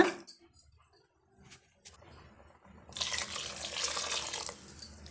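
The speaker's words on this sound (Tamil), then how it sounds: "இன்னும் கொஞ்சம் நம்ம தண்ணி வந்து சேர்த்து விட்டுக்கலாங்க." Water poured into a pot of vegetable salna, a steady splashing, running stream starting partway through after a few soft kitchen clinks, close and moderately loud.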